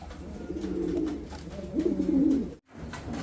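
Female black pigeon cooing at a pigeon farm, two drawn-out throaty coos close by, the second louder, followed by a short silence and quieter ambience.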